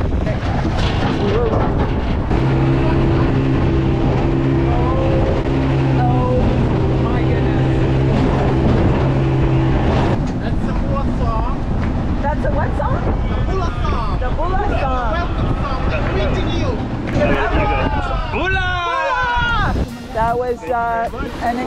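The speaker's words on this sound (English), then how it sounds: "An exciting boat ride." Continuous engine drone and rushing wind noise of a moving boat off Taveuni Island, Fiji, loud and close, with bursts of excited voices talking over it.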